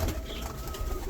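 An Archangel pigeon coos in a breeding loft, a soft low rolling call heard close and steady for about a second over faint room noise.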